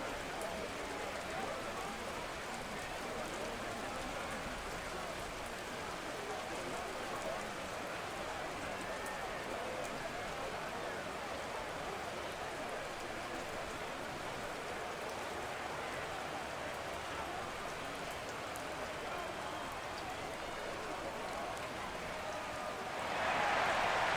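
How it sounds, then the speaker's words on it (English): Steady rain falls across a rainy football game in Madden 22, Saints versus Seahawks, a constant broadband wash that holds evenly throughout, with a brief louder swell at the very end and faint background crowd or commentary. "The rain set to continue as we are underway in the second half."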